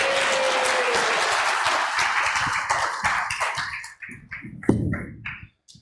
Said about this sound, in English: Everybody give Aiden a big round of applause.